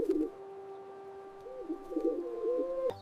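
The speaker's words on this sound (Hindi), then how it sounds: "कबूतर।" A pigeon coos in a steady series of soft, throaty low calls lasting about three seconds, close and clear, with a sharp click at the end and no talking.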